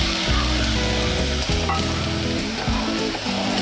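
Mixed sprouts tipped into a sizzling tempering of paste, tomato and curry leaves in a pan, giving a loud, continuous crackling fry with stirring clatter throughout.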